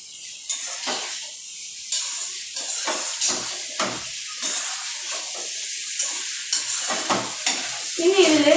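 Potatoes frying with turmeric in a pan, a bright steady sizzle with repeated spatula stirs scraping and tapping the pan at an irregular pace, close up and without speech.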